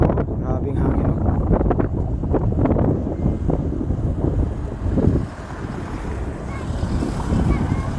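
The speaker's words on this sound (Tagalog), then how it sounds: "Grabing hangin, no?" Strong gusting wind buffets the microphone on a coastal bridge over the sea, a loud, continuous roaring rush that eases briefly midway, while a person speaks over it.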